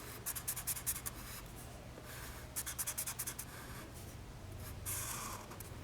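A pen sketches a simple series circuit diagram on paper in quick bursts of short scratchy strokes, several rapid groups of ticking lines with pauses between, close and quiet over a low steady hum.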